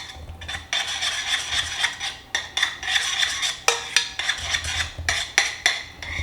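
Pumpkin spice latte mixture, freshly made on the stove, is scraped into the corner of a pan with a utensil in a home kitchen, producing repeated close scraping and rubbing strokes in short bursts with no talking.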